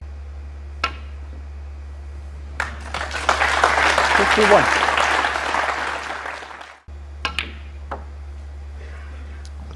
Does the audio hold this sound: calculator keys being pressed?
no